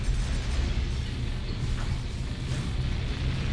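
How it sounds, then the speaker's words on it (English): A missile expansion barrier blows up in Metroid Prime 3: Corruption, a dense, sustained roaring rumble that stays loud and steady throughout with no pauses. "Okay, that'll blow up."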